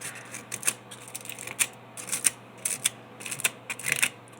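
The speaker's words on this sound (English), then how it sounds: "sharpen those scissors with a piece of old foil, and you just cut into it like that." Scissors snipping into a piece of old aluminum foil to sharpen the blades, a series of crisp crinkly cuts at an irregular rhythm, close and fairly quiet over a low steady hum.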